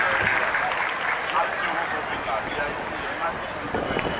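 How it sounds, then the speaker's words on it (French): An audience at a World Youth Day conference-debate claps for the event organizers, a steady, dense wash of applause with voices mixed in throughout. "je demande nous faire un gros applaudissement pour tout le monde qui a organisé belle"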